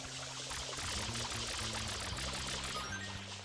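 Water sprayed in Super Mario Sunshine, a loud, continuous gushing hiss like a strong pouring stream, with low tonal hums underneath and no speech.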